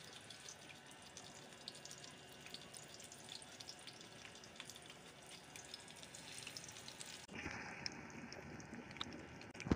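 Potato chapli kabab patties fry in ghee, giving a steady soft sizzle and crackle throughout with no talking, growing slightly louder near the end.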